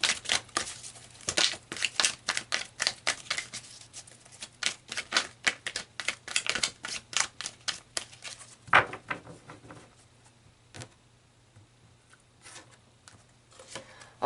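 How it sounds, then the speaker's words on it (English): Tarot cards being shuffled and pulled for a reading, a rapid run of crisp riffling snaps that thins into a few sparse, softer card flicks toward the end, close and alone. "let's pull some cards to see how this, you know, story unfolds"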